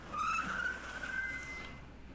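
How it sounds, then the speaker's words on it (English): A black car skids to a sudden stop with a long, loud squeal of tires that rises and then holds before cutting off, alone and close, with no voices. "a black car slid right under me and came to a sudden stop with an incredible squealing of the tires"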